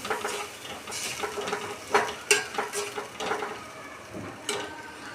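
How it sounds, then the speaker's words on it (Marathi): Chopped onions fry in a pan until light pink, with a crackling sizzle under repeated stirring and a few sharp clinks of a spoon against the pot. "कांदा छान गुलाबी करून घ्यायचा आहे।"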